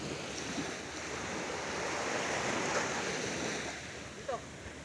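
Ocean surf at Puerto Galera beach in the Philippines rolls in as a continuous broad wash, with wind buffeting the microphone throughout.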